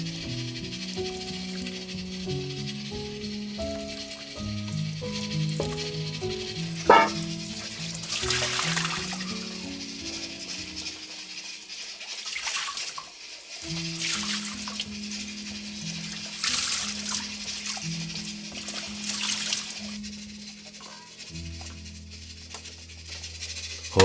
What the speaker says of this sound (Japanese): 霜降りをして魚の余分な脂や臭み、血合いを取っていく